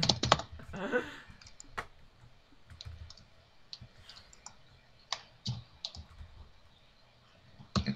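Keys clacking on a computer keyboard while playing Minecraft, a run of close, irregular clicks and taps at varying pace with small pauses, no voices.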